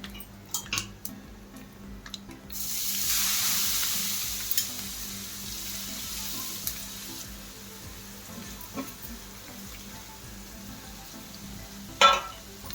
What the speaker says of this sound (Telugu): ఇప్పుడు ఈ మిశ్రమాన్ని మంచిగా అడుగంటకుండా చక్కగా కలపాలి